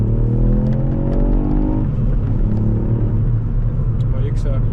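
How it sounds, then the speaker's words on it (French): A 200 hp Ford Fiesta ST accelerating in circuit mode, its engine a loud, close rumble whose pitch climbs steadily, drops at a gear change and then rises again. "Donc là on va faire une petite accélération, que vous voyez un petit peu ce que ça donne en mode circuit."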